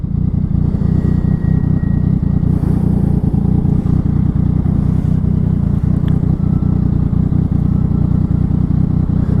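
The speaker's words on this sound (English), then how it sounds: "Exhaust noise is good." Yamaha MT09 motorcycle exhaust while riding, a loud steady engine drone close to the microphone with a deep rumble, light clatter and small shifts in engine speed throughout.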